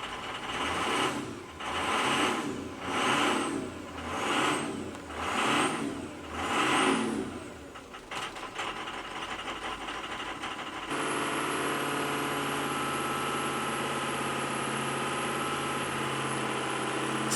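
Diesel engine with an injector fault, suspected on cylinder number 3, runs and revs in slow repeated surges for about eight seconds, then holds a steady loud idle with a high whine, alone without talk.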